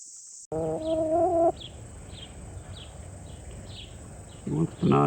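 Rooster in a backyard coop setting gives a loud, close call at the start, then a soft series of repeated clucks, before another burst of squawking calls at the end.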